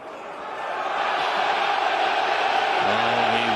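Darts crowd at the Palace during the PDC World Darts Championship, a loud sustained roar of cheering and shouting that swells and holds, with a brief sung or chanted tone near the end.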